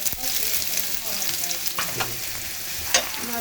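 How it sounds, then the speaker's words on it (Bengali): Chopped onion frying in a little oil, the base for a goat trotter nihari, makes a loud, close, continuous sizzle. Stirring scrapes and clatters through it, with a sharper knock near the end. "আমার পেঁয়াজটা হালকা একটু ভাজার পর দিয়ে দিচ্ছি রসুন"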